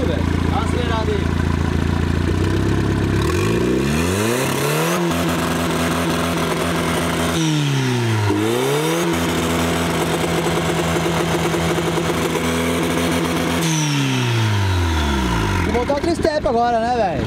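A turbocharged Chevette engine is revved hard several times, climbing and falling in pitch, loud and close, with people talking over it.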